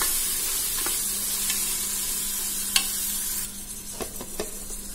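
Tomato pieces frying in a pan for goat head curry, a continuous bright hiss of oil with a few soft stirring clicks near the end, close and steady, no voices.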